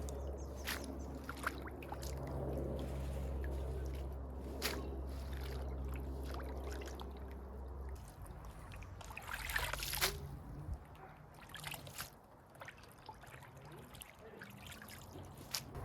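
Harvested garden produce is swished and rinsed in a bucket of vinegar water, soft trickling and splashing close by, with a steady low hum through the first half and brief louder sloshing near the middle.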